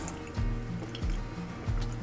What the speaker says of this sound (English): we're going to open the tap and release any pressure that's in the system